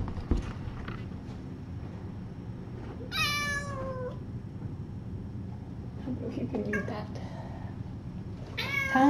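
Tiny kittens meow in a few high, wavering cries spread across a quiet indoor scene, with soft movement and low talking in the background.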